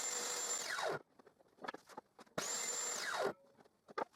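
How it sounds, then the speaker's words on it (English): A power drill whines up to speed twice, its pitch dropping as the bit bores guide holes into a wooden shed window frame, with clattering handling noises between the bursts. "I drill guide holes"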